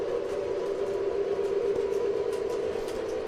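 A Lionel Limited Edition New Jersey Transit U36B model train gives off a steady, droning engine rumble with a constant hum, unbroken and fairly close throughout.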